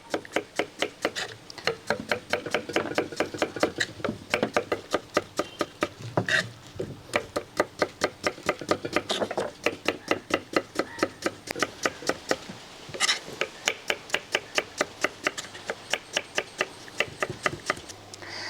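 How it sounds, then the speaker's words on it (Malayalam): A knife chops pumpkin finely on a board in a long run of quick, evenly spaced knocks. The strokes are close and crisp, with a few brief pauses, and no speech. "ആദ്യം നമുക്ക് മത്തനരിയാം വെന്ത് ഉടയാനുള്ളതാണ് അതുകൊണ്ട് ചെറുതായിട്ട് നൈസപ്പനായിട്ട് അരിയാവേ"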